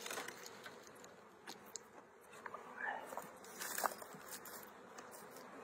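Bees buzz around a hive in spring, several insects droning faintly at varying distance, rising and falling as they fly past.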